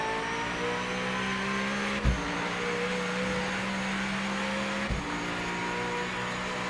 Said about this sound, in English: Listen to how much faster it shifts with the H pattern.